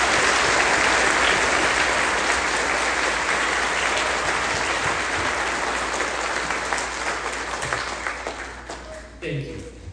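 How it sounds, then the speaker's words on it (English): Sustained audience applause fills a 4th-grade graduation ceremony, a dense steady roar of many hands that gradually thins and fades toward the end, with a few voices mixed in. "let's give Stephen and his family one more round of applause"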